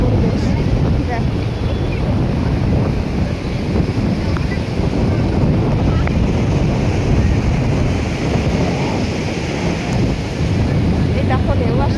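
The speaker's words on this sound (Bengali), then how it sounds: "এই দেখো ঢেউ আসছে, দেখো দেখো ঢেউ আসছে" Sea waves rolling in at Digha beach in the early morning, a steady loud roar of surf mixed with wind buffeting the microphone, continuous throughout with no clear breaks.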